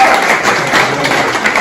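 Dinner guests at an art gallery dinner applaud together, with dense, continuous clapping at close range that holds steady and loud without pause.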